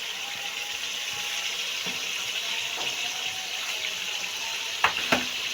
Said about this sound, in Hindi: चिकन थोड़ा सा फ्राई हो गया है।